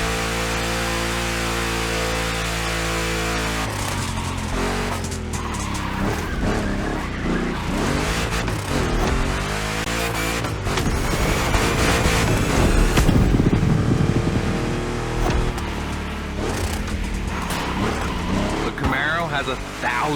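A 1,000-horsepower race car roars through a race in The Crew Motorfest, its engine loud and sustained with shifting pitch and brief tire noise, set under continuous game music throughout.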